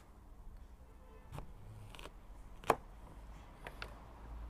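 Kitchen knife slicing a delicata winter squash in half on a cutting board, a few sparse crisp cuts and taps with one sharp crack standing out, quiet and close with no talking.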